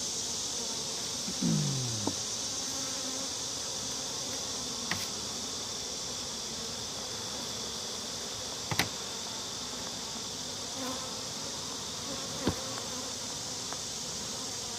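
Honey bees humming continuously around an opened hive during inspection, a thick steady buzz with one bee swooping close early on and a few sharp taps of hive tools.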